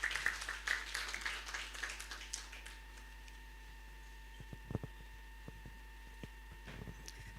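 Audience applause at an HR conference as a speaker is welcomed to the stage: clapping that fades out within three seconds, leaving a quiet room hum with a few faint scattered taps.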